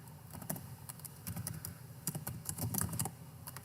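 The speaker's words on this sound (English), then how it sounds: "and type up Mike Tyson" Rapid typing on a computer keyboard, with quick irregular key clicks running continuously over a low background hum, close and moderately quiet.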